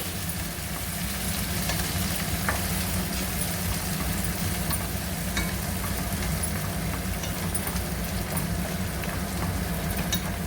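Spices are stirred into hot oil in a frying pan while cooking aloo dum biryani, giving a continuous close sizzle with faint stirring scrapes and no talking.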